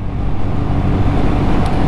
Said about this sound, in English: I can feel the engines alive, pumping away underneath me with that long stroke